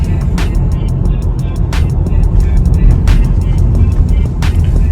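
Skoda Octavia A7 2.0 TDI with DQ381 gearbox rolling over a rough, patched road, a steady low rumble from inside with repeated sharp bumps and rattles from the uneven surface, close and continuous.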